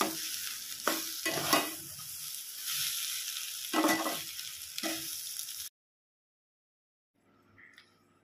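Egg bhurji, scrambled eggs, sizzles in a pan while being stirred, with scraping strokes and hissing for several seconds before a sudden silence and a brief faint return of frying.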